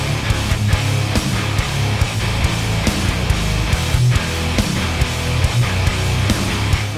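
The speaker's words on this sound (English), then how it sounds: "We've got the amazing Element Bass Amp Sim, and it'll get you a sound like this" Bass guitar played through the Element Bass Amp Sim plugin, a heavy, dense, distorted tone with continuous rhythmic notes and a strong low end, loud and upfront with no voices.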